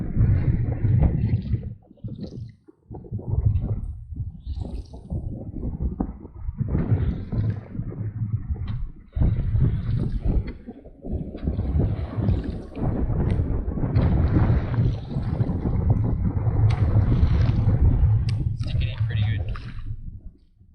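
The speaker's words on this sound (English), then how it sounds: "A bit of wind sprung up." Wind blowing on a boat while casting a GT popper offshore, a loud continuous low buffeting roar with gusty surges, under occasional talking.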